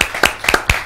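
Sparse, close claps from a studio audience greeting a journalist and writer guest on a Mar del Plata anniversary program, a few sharp hand strikes in under a second.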